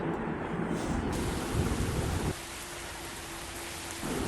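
Dense, roaring heavy rain pours steadily, close and loud, with a brief drop in intensity partway through before swelling again.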